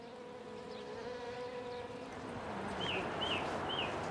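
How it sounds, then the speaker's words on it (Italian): Flies and other insects buzz steadily around a bird's nest where food scraps rot, in the Alps of the Hohe Tauern near the Grossglockner; a continuous close drone with a few faint bird chirps on top. "Gli avanzi restano a decomporsi nel nido, attirando mosche e altri insetti."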